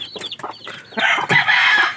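A winning gamecock, a rooster with a wound on its wing, gives a few soft close clucks, then breaks into louder, drawn-out raspy calls that fill the second half.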